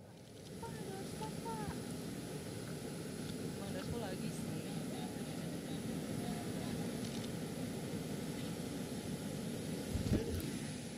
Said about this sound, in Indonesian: Dengan menggunakan pesawat kepresidenan, Presiden Prabowo Subianto bertolak dari Bandara Halim Perdana Kusuma, Jakarta pada Rabu dini hari.